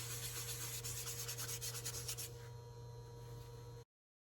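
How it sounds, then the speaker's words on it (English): Steel wool buffing an oiled guitar headstock on a seaglass acoustic Les Paul, coated in gunstock oil and rubbed to a satin finish, giving steady close scratchy rubbing strokes that ease off midway, then stop. "buffed it out to a satin finish with steel wool"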